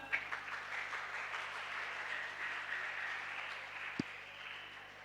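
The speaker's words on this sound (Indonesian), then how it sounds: "Beri tepuk tangan." A school audience at a talk show on anti-bullying applauds steadily for a few seconds, a soft, fairly distant wash of clapping with one sharper thump near the end.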